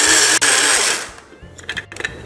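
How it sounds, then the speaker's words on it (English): A coffee grinder pulverizing granulated sugar into fine sugar roars loudly at close range for about a second, then winds down into quieter clicks and rattles as the blades stop. "we use a coffee grinder to get the sugar to be like fine sugar"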